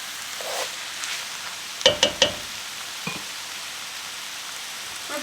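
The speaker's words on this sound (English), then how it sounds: "we're going to do is get a nice sear on the steak" Steak bites searing in a hot pan give off a steady, close frying hiss, broken by a few sharp clinks and taps near the middle.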